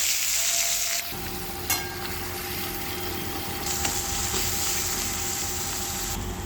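Cumin, bay leaf, dried chilli and grated onion fry in hot oil, a loud continuous sizzle close by with a sharp spatter burst as ingredients drop in and the hiss swells and eases as the pan is stirred.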